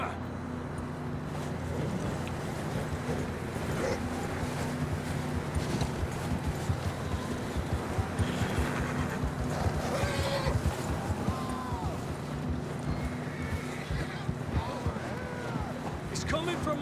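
Horses gallop in the video game Red Dead Redemption 2 with a continuous rumble of hoofbeats, with occasional whinnies rising over the noise while people talk.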